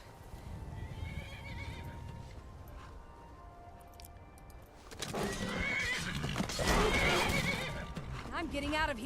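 A horse in a video game gives a loud, close whinny with hoof clip-clops, following a stretch of quieter ambience with talk; a voice speaks at the start.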